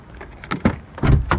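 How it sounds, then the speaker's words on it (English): The door locks of a BlueCity electric car release after a card is held to the reader, giving a few quick, close mechanical clunks and clicks within about a second. "that's opened the locks"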